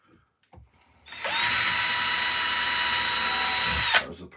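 A power drill starts up with a high, steady whine, runs continuously for about three seconds, then winds down.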